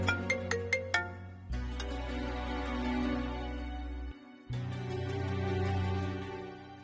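A phone ringtone rings alone and close by, opening with a few quick tones, then a sustained melodic ring that pauses briefly and resumes.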